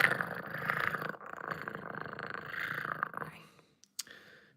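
A voice imitates a wild cat's purr, a soft, steady rumbling held for about three seconds at low volume, then breaking off into quiet breaths and a small click.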